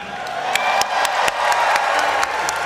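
A convention crowd at the Final Fantasy XIV Fan Festival in Las Vegas cheering for a team, a broad roar of voices with sharp claps and whoops rising and falling throughout.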